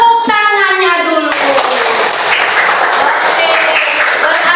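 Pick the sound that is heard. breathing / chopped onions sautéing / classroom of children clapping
classroom of children clapping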